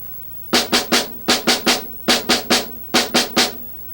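Snare drum primary strokes of a five-stroke roll played as evenly spaced single hits in three groups of four, crisp and close with brief pauses between groups.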